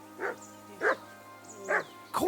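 A dog in Kingdom Come: Deliverance II barks four times at roughly even intervals, each bark short and close, the last one sharper and louder.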